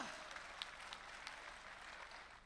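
Audience clapping at a poetry recital at a kavi sammelan and mushaira, faint and distant, a thin scattered patter of hands that tapers slightly toward the end.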